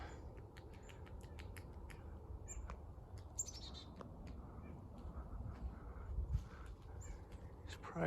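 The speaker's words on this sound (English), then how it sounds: "He's probably eyeing all these little birds here." Small birds chirp and tweet in the woods along a mountain bike trail, brief high calls scattered over a low, rumbling outdoor background, fairly faint and distant.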